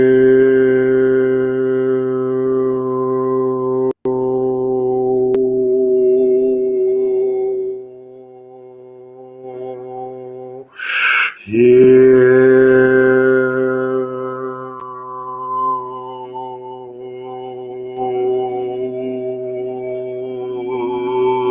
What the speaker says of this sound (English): can you hear these tones going down? The background tones?